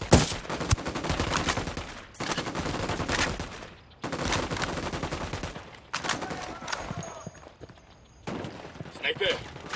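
Gunfire in the video game Ghost Recon Wildlands comes in several loud, sustained bursts separated by brief lulls, with voices heard among the shots.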